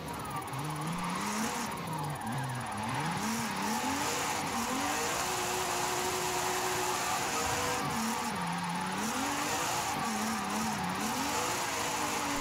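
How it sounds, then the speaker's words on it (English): A Nissan Z drifts in Forza Horizon 5, its engine droning steadily with a wavering pitch while tires squeal continuously through long slides, loud and sustained throughout. "I can drift pretty much anything and everything in this game"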